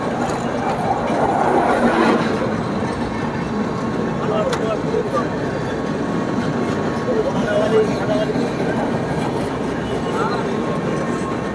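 The Radhikapur Express crosses the Farakka Barrage bridge with a continuous, moderately distant rolling rumble that rises and falls slightly, mixed with open-air background noise.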